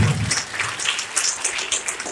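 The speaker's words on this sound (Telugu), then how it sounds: "ఫస్ట్ ఆఫ్ ఆల్ వాళ్ళందరి కోసం ఒకసారి చప్పట్లు కొట్టండి." A live audience at a public event breaks into applause, a dense, continuous patter of many hands clapping at once, fairly close and steady throughout, with no talk over it.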